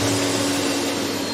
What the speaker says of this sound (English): Introducing the Clean My Bricks Mini Vacuum Cleaner.